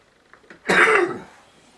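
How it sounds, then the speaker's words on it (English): A single loud, harsh cough bursts out near the mic, then trails off into quiet. "coughing away"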